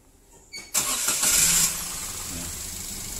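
A Daihatsu Ayla 1000cc with an oil warning light and an abnormal engine noise cranks briefly, catches and roars up loudly, then settles into a steady, close idle.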